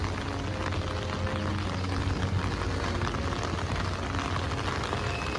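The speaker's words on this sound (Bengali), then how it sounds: "এখনও পর্যন্ত থামেনি অনবরত হয়েই যাচ্ছে বৃষ্টি" Steady, dense rain falls without a break, a continuous broadband hiss with no talking.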